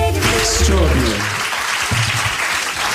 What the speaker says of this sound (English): A big round of applause for Dids and Trish